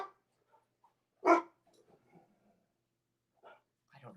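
A dog indoors lets out one loud, sharp bark close by, then the room falls mostly quiet, with a few faint scattered sounds and a couple of soft noises near the end.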